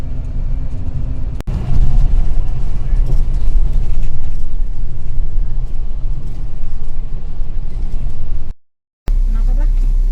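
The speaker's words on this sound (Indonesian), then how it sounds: "ini sekarang lagi lanjut lagi perjalanan setelah busnya berhenti di rest area, dan ini busnya akan berhenti sampai akhir" A bus travelling on the road toward Hanoi in Vietnam gives a steady, loud engine rumble with mechanical rattles, a sharp click early on and a brief dropout near the end.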